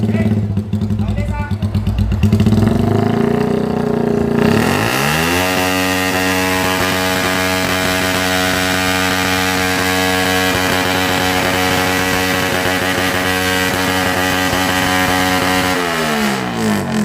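A motorcycle fitted with a very loud exhaust pipe revs hard at a loud pipe contest, the engine climbing to a sustained high-pitched roar and holding it, close and dominant with people talking around it.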